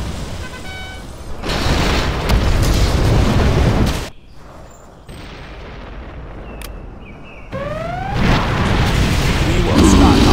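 Mortar shells and rockets exploding in C&C Generals Contra X, with loud booming blasts filling long stretches, a brief lull, then more heavy bursts layered with whooshing projectiles and battlefield chatter.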